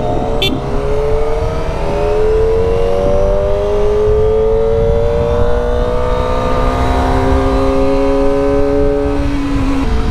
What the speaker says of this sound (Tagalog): Nakakapanibago din mga kawan moto na sobrang tahimik ng motor natin